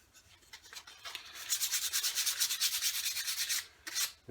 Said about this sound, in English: Let's finish sanding this down